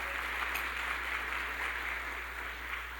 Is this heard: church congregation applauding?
yes